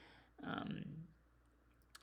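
A single soft mouse click, heard close and quiet in a calm room, followed by near silence.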